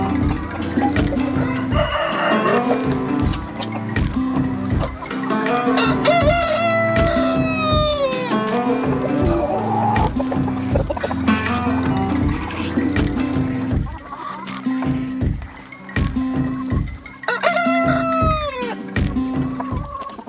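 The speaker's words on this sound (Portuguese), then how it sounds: "Hora de juntar as aves." Chickens and a rooster gathered in a backyard poultry paddock, with steady clucking throughout and several loud, close rooster crows rising above the flock, no talk.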